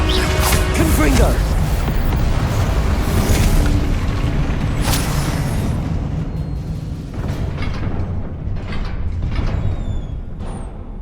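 In the video game Hogwarts Legacy, Confringo fire spells explode in loud, booming bursts over a dense rumble of game action, with a voice speaking amid the blasts.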